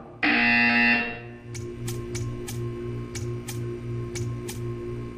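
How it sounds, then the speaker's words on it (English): A loud electronic buzzer from the video game Portal 2 blares for about a second, followed by a steady hum with a regular series of crisp ticks. "When you hear the buzzer, stare at the art."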